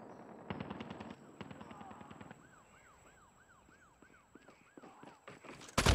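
Machine gun fire in the mobile shooter Call of Duty Mobile: rapid bursts of shots near the start, then quieter sporadic fire under a rising and falling siren-like game tone, ending in a loud close blast.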